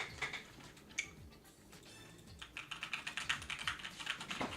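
Computer keyboard keys pressed repeatedly by a gamer whose keyboard is not working, quiet close clicks that start scattered and become a fast, steady run of taps.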